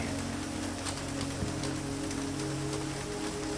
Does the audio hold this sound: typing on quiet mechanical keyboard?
no